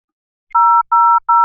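Telephone keypad tones from a second phone: three evenly spaced steady beeps, loud and close, following a brief near-silence with no voices.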